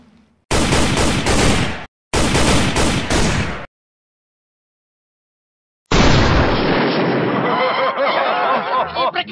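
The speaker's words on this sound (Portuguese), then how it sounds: "É tiro pra tudo quanto é lado" Gunfire from the PS3 western shooter Call of Juarez Gunslinger: two loud bursts of rapid shots, a silent gap, then a long sustained volley with sharp cracks and booming echoes, no talk.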